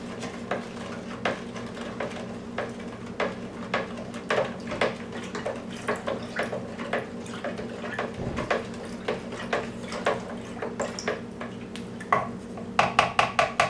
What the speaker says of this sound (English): We'll give that another stir.